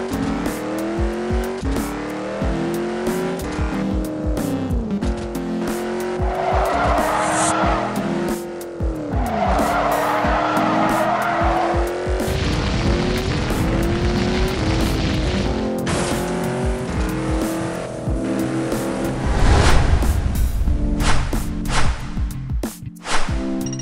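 Race cars in the Rebel Racing video game roar at full throttle with engine revs rising and dropping through gear changes, tires squealing through skids, loud and continuous with no talk.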